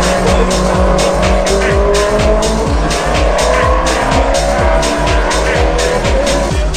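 GT1 race car engines rev in the pits at the Brno circuit during a wet practice session, a loud, continuous throbbing roar with a steady rhythmic pulse and no voices.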